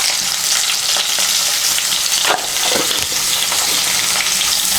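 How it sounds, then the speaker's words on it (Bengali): Thin-sliced bitter gourd tossed with salt and turmeric fries loudly in hot oil, a dense continuous sizzle broken by a few stirring scrapes, close and with no voices. "নুন আর হলুদের গুঁড়োটাকে মিশিয়ে নিয়ে উচ্ছেটাকে লাল করে ভেজে নেব।"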